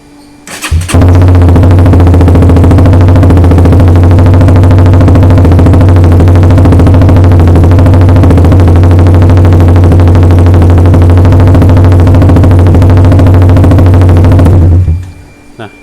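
A motorcycle fitted with an R9 New Alpha aftermarket exhaust, its dB killer removed, idles in a residential neighborhood. It fires up abruptly and settles into a loud, steady, throaty rumble for about fourteen seconds before cutting off.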